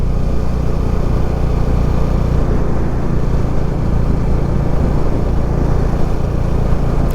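A motorcycle engine runs steadily on a Ladakh mountain ride from Kargil toward Namika La at high altitude, with the engine check light on. The engine makes a loud, continuous, close rumble with no breaks throughout.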